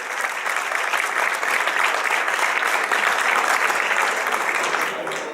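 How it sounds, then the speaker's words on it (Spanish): Audience applause at an academic conference on physical education, a broad sustained wash of clapping from many hands, even and fairly loud, fading slightly at the end. "Fuerte el aplauso para los 4 para despedirlos,"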